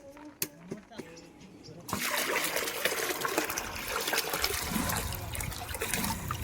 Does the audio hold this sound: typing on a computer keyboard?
no